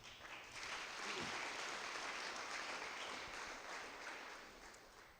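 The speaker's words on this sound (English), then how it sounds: "may we have a round of applause for all our graduates" Sustained, even applause from an audience honoring graduates at an artisan graduation ceremony, heard at a moderate distance and swelling then slowly fading.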